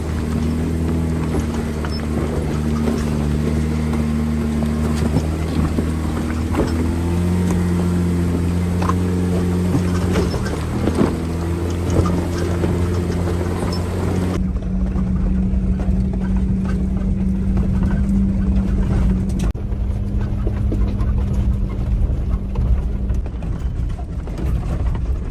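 An overland vehicle crawls along a bumpy mountain track, its engine giving a constant low rumble with a faint changing drone. Soft knocks and rattles come through the cabin, and no one talks.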